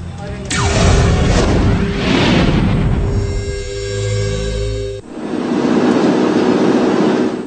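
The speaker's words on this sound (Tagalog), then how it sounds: "makuna ng aming news team ang pagsabog na ito sa Mamasapano, Maguindanao" A loud roadside IED blast erupts near a military convoy on a highway in Mamasapano, Maguindanao, its boom followed by rumbling debris and a second surge of noise, with vehicle sounds and voices mixed in.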